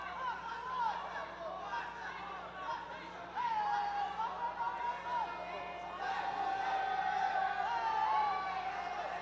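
Crowd at a jiu-jitsu world championship match roars and cheers steadily in a large arena, a continuous swelling mass of voices that grows louder toward the end, with chatter mixed in.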